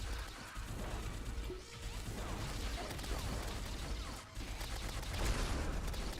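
Enemies in the Terraria Calamity Mod fire rapid shotgun blasts amid a dense, continuous wash of game combat noise, with repeated crashing bursts layered over a busy background.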